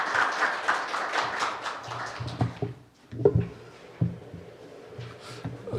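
An audience at a Korean policy forum on industrial security applauds to welcome the presenter, a burst of clapping that fades into scattered taps and handling noises.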